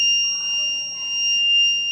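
An electronic buzzer on a school bank security alarm project sounds a steady, continuous high-pitched tone for two seconds, close and clear with faint background noise.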